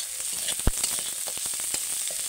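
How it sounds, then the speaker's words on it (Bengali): Potatoes and onions fry in oil with a constant close-up sizzle, punctuated by a sharp utensil knock and light stirring scrapes, with no talk. "দেখো বন্ধুরা, আলু আর পেঁয়াজটা আমার সুন্দর করে ভাজা হয়ে গেছে।"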